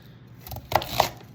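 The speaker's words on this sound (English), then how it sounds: "kind of just chopping these up like this" A knife chops red cabbage on a cutting board, with two distinct crisp chops close together after a quiet start, close by and fairly faint.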